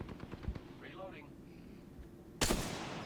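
A single sharp, loud gunshot rings out in Apex Legends after quiet gameplay ambience with a soft voice earlier, its echo trailing off.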